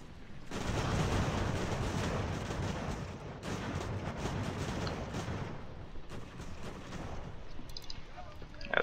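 Artillery booms and crackling musket volleys from the battle game Ultimate General: American Revolution, a dense, continuous roar of gunfire over about nine seconds with no clear pauses.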